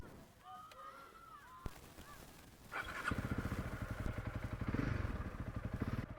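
A Honda CRF 300 Rally motorcycle rides down a historic street in Tulbagh, South Africa, its single-cylinder engine rising into a loud, steady rapid thump up close after a quieter opening with faint bird calls and a sharp click.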